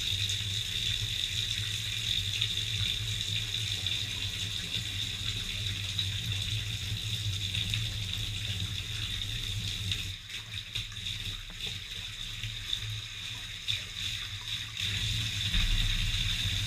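Tap water gushes steadily into a kitchen sink while a Dell keyboard is washed, a constant close rushing stream with some shifting splashes partway through.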